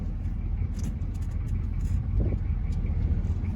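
A Chevy K10 pickup engine rumbles steadily up close, its low throttle revs swelling a little without a sharp climb, with a faint voice briefly over it.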